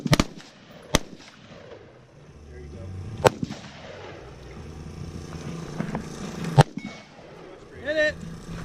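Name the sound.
rifle firing with a bump stock in the desert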